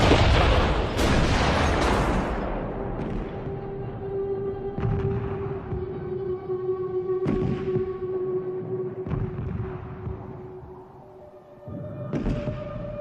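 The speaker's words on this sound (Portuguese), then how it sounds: "Para esmagar as fortalezas, eles precisam trazer os seus enormes canhões Krupp, que disparam projéteis de 1 tonelada." Heavy Krupp siege cannons fire one-ton shells against First World War fortresses, a run of deep, loud booms at irregular intervals over a sustained low droning tone.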